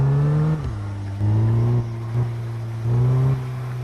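Car engine in the indie video game The American War, revving repeatedly in short rising bursts over a steady low hum, close and fairly loud with no voices.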